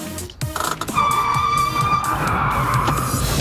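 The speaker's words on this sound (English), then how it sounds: "Then it's time to pull the handbrake." Car tires skid and squeal loudly during a handbrake turn, a sustained screech rising over engine noise at close range.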